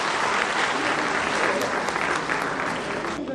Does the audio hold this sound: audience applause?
yes